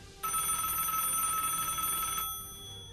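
A telephone bell rings in one sustained, loud burst of about two seconds, steady and close, then cuts off and leaves a faint hiss.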